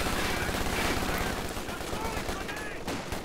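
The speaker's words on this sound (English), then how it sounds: "Look at these MGs working overtime." Machine guns rattle in a Company of Heroes 2 match, dense overlapping bursts of gunfire running continuously through a busy battle soundscape with other explosions and noise mixed in.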